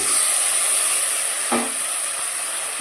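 Onion, tomato and a prepared spice paste frying and stirred in a pan for an amudi fish curry, a loud constant close sizzling hiss with a brief stir or spoon knock near the middle.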